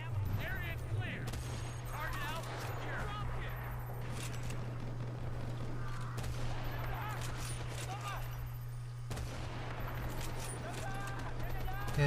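Rapid bursts of gunfire from Battlefield: Bad Company 2 in a Vietnam setting crackle repeatedly over a constant low hum, with scattered distant shots and shifting intensity throughout.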